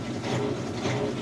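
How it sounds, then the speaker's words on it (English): A Kenmore washer in its final spin cycle, with the drain pump running to push out the last water, giving a steady, fairly loud mechanical hum and whir that stays constant with slight pulsing throughout. "The pump is running as well, that's what that noise is."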